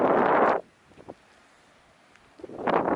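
Wind gusting across an open, deserted beach on Akhlestyshev Bay in Vladivostok in October, two loud blasts of microphone buffeting at the start and end with a lull between.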